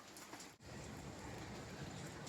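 Heavy rain pouring down outdoors, a steady, soft broadband hiss heard alone and fairly faint, with one brief dip in the middle.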